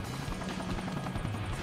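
A helicopter in the video game Sonic Generations gives a steady, loud rotor chop and engine drone that continues alone throughout.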